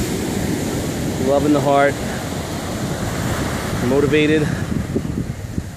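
Ocean surf rolls in steadily at Vero Beach on a bright day, a constant broad wash of waves with some wind, while someone talks over it.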